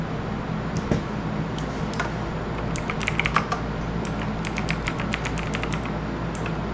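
Computer keyboard keys tapped in quick irregular bursts at close range, with some louder clustered strokes midway, all over a steady low room hum with no voices.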